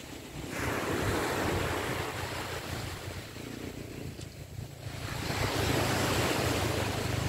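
Sea waves wash and roar continuously along the shore at Amper beach, swelling and easing, with wind buffeting the microphone.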